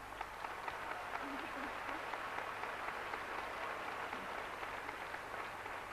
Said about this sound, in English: Will she deserve another round of applause?